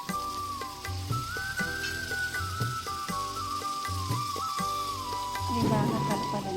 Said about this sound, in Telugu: ఇప్పుడు టమాటా ముక్కలు వేసి